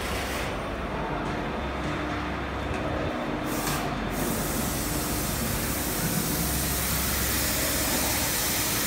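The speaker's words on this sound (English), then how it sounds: "Now he's testing the water spray." A continuous hissing water spray from an FR-1660 cutter runs steadily throughout, a broad rushing sound that stays even in loudness, with a low mechanical hum underneath.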